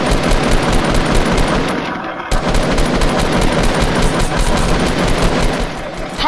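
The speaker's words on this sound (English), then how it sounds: "Spray that with a minigun?" A minigun in Fortnite fires in long, dense sustained bursts, loud and close, with one short break before the spray resumes.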